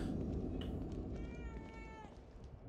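A cat in the video game The Evil Within 2 meows a few times over a steady low background hum, the cries rising and falling in pitch, fairly faint and electronic-sounding.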